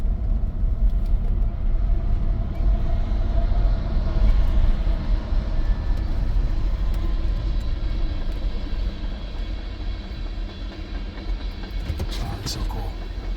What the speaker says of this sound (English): Here comes another train. Oh, it's a freight train.